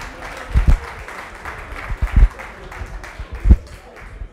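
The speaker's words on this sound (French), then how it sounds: "On peut quand même applaudir." An audience at an NBA viewing night claps in scattered, uneven applause, with louder bursts of hand claps standing out over a murmuring crowd.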